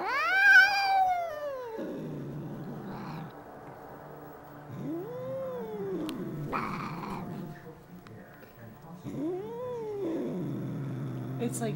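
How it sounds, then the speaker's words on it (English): An angry cat growls and yowls in long rising-and-falling wails, three loud drawn-out cries separated by low rumbling growls, close up with no talk over it. "This is crazy angry cat."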